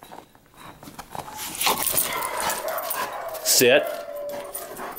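A dog playing in snow outdoors makes yelps and whimpering sounds, including a sharp high whine near the end, amid rustling and footsteps while a person talks and gives a command.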